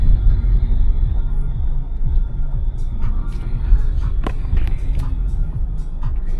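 A taxi car rolls through the narrow streets of a private-sector neighbourhood in Dnipro, low road and engine rumble throughout, with someone talking over it and a few faint clicks and knocks.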